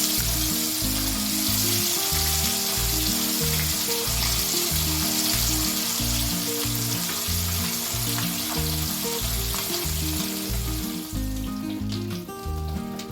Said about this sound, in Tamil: எண்ணெய் காஞ்சிச்சு. ஒன்று ஒன்றா போட்டுடலாம்